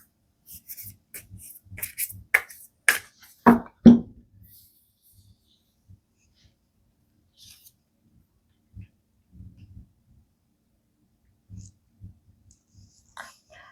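A tarot card is drawn from the deck, giving a cluster of close card rustles and clicks at the start. Near silence follows, broken only by sparse soft taps.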